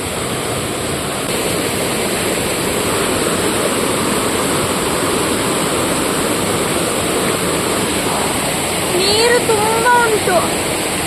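Reddish muddy water rushes in a loud, steady roar, like a nearby cascade, with a brief chirping call rising over it near the end.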